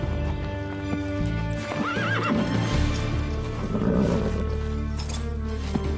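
A horse whinnies loudly and close by, a rising, quavering neigh over steady hoof clops and a constant low background rumble.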